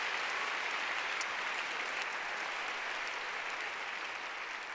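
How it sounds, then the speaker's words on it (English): Sustained round of applause from a large audience at a Women in the World event, steady and dense for the whole stretch with no voices over it. "So how about a round of applause for all of them?"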